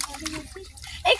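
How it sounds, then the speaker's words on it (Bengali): Rice and lentils are washed together in water while cooking at a picnic. Soft sloshing and trickling water ends in a brief, louder splash. "আমরা এখন চাল আর ডাল একসাথে ধুয়ে নিচ্ছি"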